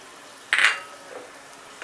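A spoon clinks and scrapes against a bowl while stirring yogurt with spices, one short bright clink and a faint later scrape, close and quiet.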